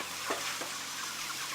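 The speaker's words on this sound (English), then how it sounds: "take your stock. This is the plain chicken stock, so you can use vegetable stock if you wish, and pour that over." Chicken stock is poured over onions in a hot pan for a pork dish, a short hiss and sizzle with a couple of soft splashes and no speech.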